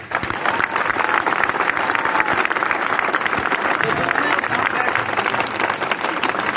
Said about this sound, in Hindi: से वो लोग तालियां बजा सकते हैं।